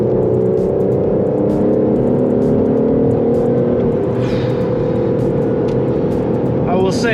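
Engine of an Aston Martin DBS Superleggera heard from inside the car under acceleration, a loud, steady drone with rising harmonics and a continuous rumbling road roar throughout.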